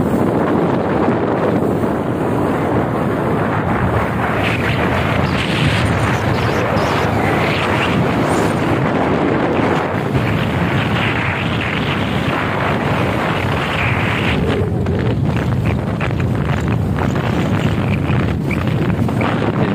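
Speedboat ride on the Musi river in Palembang, with loud continuous engine roar and water rush overlaid by heavy wind buffeting on the microphone, steady throughout with occasional bumps.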